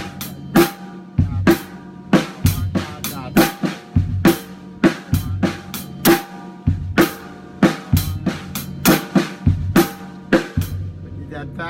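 A Gretsch Broadkaster guitar plays two measures in 3/4 time with triplets, sharp plucked notes and chords struck in a clear rhythmic pattern, close and moderately loud.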